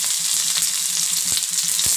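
Shallots and dried red chillies sputter loudly in hot oil for a tempering, a close, dense crackle with a couple of sharp spatula taps.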